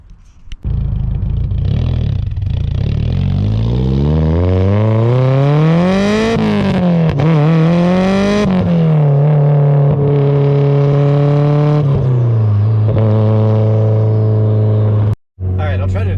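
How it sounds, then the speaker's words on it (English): Loud car with an aftermarket titanium exhaust driving, the engine droning close and rising in pitch through repeated revving and shifting before settling into a steady cruise, then cutting out briefly near the end. "this car is so insanely loud now"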